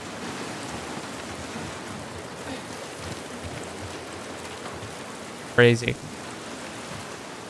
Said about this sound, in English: Our first time actually being outside in the rain in quarantine.